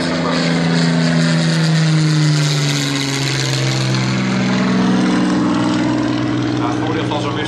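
A propeller aircraft with a radial engine drones past at the VSV Breda Airshow 2017, a loud, steady, throaty rumble that holds for several seconds.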